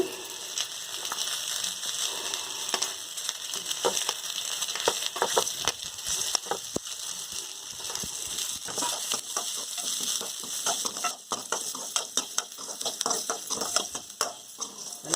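Garlic, coriander seeds, pepper and cumin frying in a pan for a garlic gravy, a constant fairly quiet sizzle broken by frequent light stirring clicks, with no voices.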